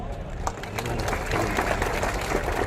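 Rally crowd at a political gathering in Aurangabad claps when Babasaheb Ambedkar is named, a brief burst of loose, scattered clapping with crowd noise in a large space.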